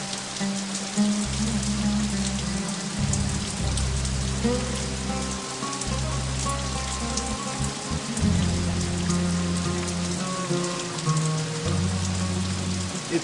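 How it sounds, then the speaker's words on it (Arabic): Steady rain falls throughout, a dense, even hiss of drops hitting surfaces, while a low droning tone and music-like notes run underneath. "بتشتي."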